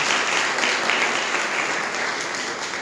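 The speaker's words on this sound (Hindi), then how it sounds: "ताली मार के धन्यवाद करो परमेश्वर की।" A church congregation at a live Sunday prophetic service claps hands together in thanks to God, a dense, continuous roar of applause that holds steady and loud for the whole stretch with no talk over it.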